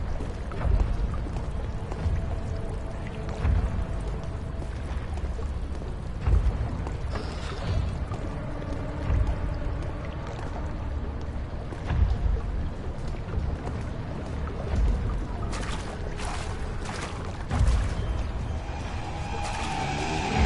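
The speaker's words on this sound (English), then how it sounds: "You expected me to tread carefully in water without making a noise" Sloshing, splashing footsteps as a character wades through water in the video game Amnesia: The Dark Descent, continuous and fairly loud with periodic heavier splashes and no talking.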